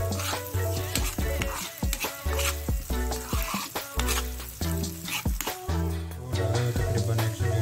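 Capsicum being stir-fried for street-style veg noodles, a loud close sizzle punctuated by rhythmic metal scraping and clanks of a ladle tossing the vegetables in the pan, with no speech.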